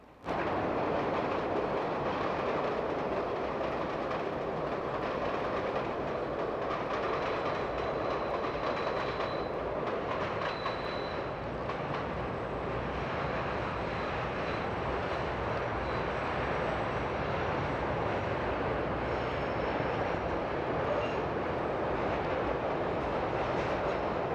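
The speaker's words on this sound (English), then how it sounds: "An inbound Green Line train precedes an inbound Orange Line train." Chicago CTA rapid transit trains, an inbound Green Line train then an inbound Orange Line train at rush hour, rumble past steadily with a continuous loud roar and faint clickety-clack of wheels on track, no voices.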